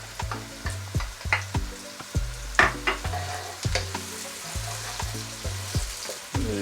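Sliced garlic, two pieces, sizzling and frying in a pan for Portuguese seafood rice, with steady crackle and several sharp stirring knocks, close and alone.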